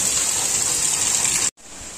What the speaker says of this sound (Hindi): ऊपर से पाइप से वहाँ पानी गिर रहा है।